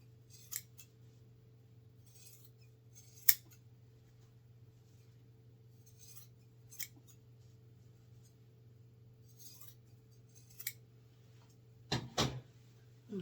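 Scissors snip sewn darts on a fabric bowl cozy in a few sparse, quiet, isolated cuts spread over a low steady hum, with a quick double snip near the end.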